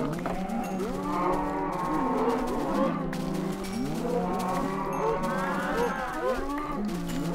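Several Minecraft cows moo in overlapping, drawn-out calls that rise and fall, continuous throughout with a steady low background hum.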